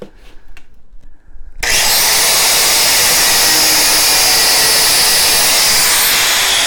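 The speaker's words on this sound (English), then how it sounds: "our weapon of choice is the angle grinder" Angle grinder bites into the door handle of a Ford Fusion after a few quiet handling sounds, then a loud, sustained, harsh high-pitched grinding whine continues to the end.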